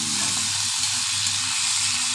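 Chopped onion, green chili and tomato fry in oil in a kadai with a loud, dense, steady sizzle and hiss, close up and without talk.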